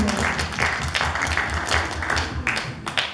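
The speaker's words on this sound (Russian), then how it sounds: "Вам аплодисменты." An audience applauds steadily, a dense patter of many hands clapping together, fairly close and lively throughout.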